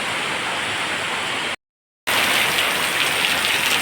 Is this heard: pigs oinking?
no